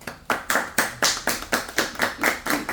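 An audience applauds after a lecture with a slow, even run of about ten distinct claps spaced roughly a quarter second apart, close and fairly clear with no talk over them.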